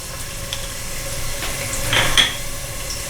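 Fresh ginger and garlic frying in hot oil in a pan, a steady close sizzle with light stirring scrapes and a brief louder burst of crackle near the end, with no talking.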